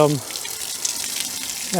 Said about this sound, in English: We'll let the water drain.